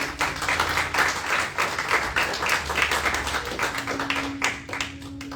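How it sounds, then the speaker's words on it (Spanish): A church congregation at a Sunday service claps together in sustained, dense applause, a steady roomful of hands over low background hum, with a faint voice underneath near the end. "Den un fuerte aplauso al Señor."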